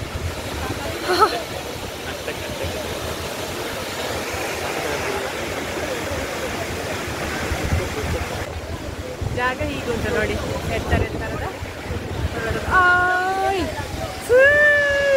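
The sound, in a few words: waterfall flowing into a river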